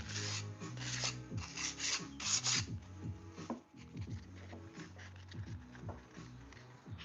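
Hand sanding wood with 3M sandpaper, close rhythmic rasping strokes in uneven bursts, quiet, while making custom cutting boards.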